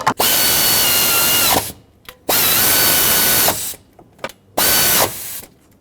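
A power tool runs bolts down on the heater core crossover tube of a 2008-2010 Ford F-250 in three loud, close bursts of whirring and ratcheting, each a second or more long with short pauses between.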